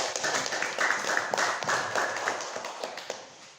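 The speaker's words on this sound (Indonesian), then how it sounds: "Tepuk tangan untuk mereka." A classroom group claps for presenters with dense, continuous hand clapping that stays fairly even throughout, without a clear start or end, with faint voices at most.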